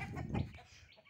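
Chickens cluck nearby outdoors, a few faint, soft clucks heard on their own at low volume.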